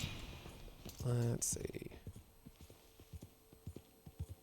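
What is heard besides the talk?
horse hooves clip-clopping in the video game Red Dead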